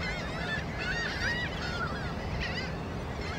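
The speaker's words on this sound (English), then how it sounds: "Checking out these American oyster catchers." American oystercatchers, a pair working a shoreline bank, give a steady run of shrill, piping calls at close range over constant outdoor background noise, with no talking.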